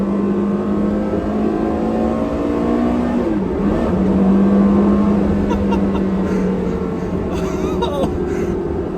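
A Porsche Carrera GT engine revs hard and loud up close, its pitch climbing, dropping through a shift and climbing again in a continuous howl with no talk over it.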